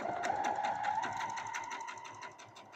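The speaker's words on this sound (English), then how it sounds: "I'm going to put this in the machine here and sew right there along the pin to lock these down" A sewing machine runs steadily and close for just under three seconds, stitching a cooling neck wrap along a pin line with an even rapid needle rhythm.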